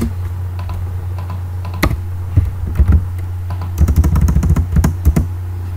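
Keys on a computer keyboard clatter in quick uneven bursts as text is entered for a Java and MySQL project, close-up over a loud steady low hum, with no talking.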